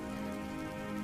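Rain falls in a continuous, even hiss with no breaks, and a steady humming tone runs beneath it.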